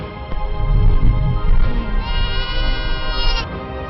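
About 125 goats and sheep herded by an elderly shepherdess in Ladakh, bleating in a dense, continuous overlapping chorus, fairly loud and close.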